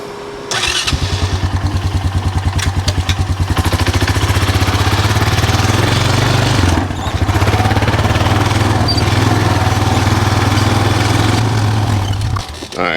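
A four-wheeler ATV engine starts and runs loud and close, a steady chugging idle and throttle that dips briefly midway before continuing, out in a field for weed spraying.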